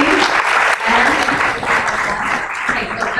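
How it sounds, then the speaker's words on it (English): An audience at a training session claps for a speaker, a dense, steady burst of applause that fills the room for a few seconds. "let's give Cassandra a round of applause"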